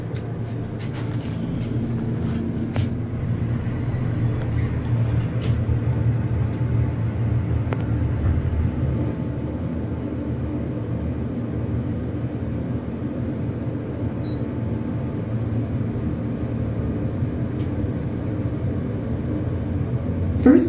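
A generic Kone hydraulic elevator ride in a campus science building in Union, New Jersey, heard as a steady low rumbling hum from inside the car that holds constant throughout, with no voices.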